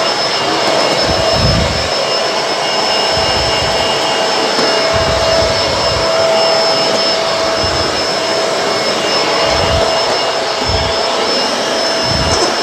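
A Bissell Multi Clean Allergen Pet vacuum cleaner runs loud and close on hard floor and carpet, a constant whooshing roar with low thumps as it is pushed around.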